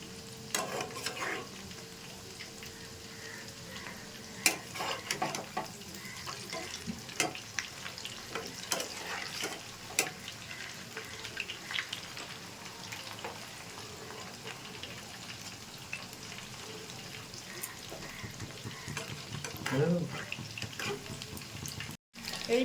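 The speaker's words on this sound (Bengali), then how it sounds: "এগুলোকে উল্টে পাল্টে ভেজে নেব।" Chicken pakoras fry in hot oil with a continuous crackling sizzle, and scattered clinks and scrapes come through as the pieces are turned over, close and steady throughout without talk.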